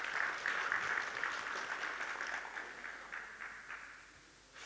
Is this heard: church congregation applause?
yes